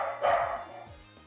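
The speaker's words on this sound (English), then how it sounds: "I'm gonna mute this so you guys don't hear the barking for a sec." A single close, loud dog bark, short and sharp, with no talking.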